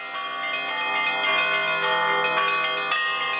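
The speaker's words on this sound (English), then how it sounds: "bells have not been studied fully yet, especially Russian bells" Russian church bells peal together, their bright metallic tones ringing and overlapping in a continuous rich wash, with fresh strikes rising out of the lingering hum.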